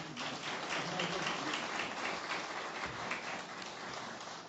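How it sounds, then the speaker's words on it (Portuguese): Audience applause at a book launch for a treatise on the Gospels, a dense, even wash of many hands clapping that fills the whole stretch without a break. "a quem eu peço uma salva de palmas ao Dr."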